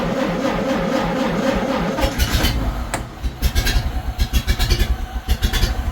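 A 1931 Ford Model A engine cranks over and catches, then settles into a loud, close, uneven running idle with rhythmic pulsing beats and occasional throttle blips.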